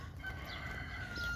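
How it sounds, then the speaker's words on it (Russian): Brief, faint rooster crowing comes from a distance in a seaside setting, with a short drawn-out call over a quiet background and no talking. "Петушки поют, ну приятно"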